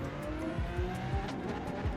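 Race car engine in Forza Motorsport revving up steadily without gear changes, a loud continuous drone with repeated rising harmonic sweeps across the full stretch.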